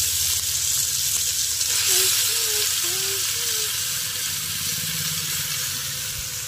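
Mutton fries in a pan over an open fire, village style, giving a loud, steady hiss and sizzle throughout, with a faint voice briefly audible beneath it.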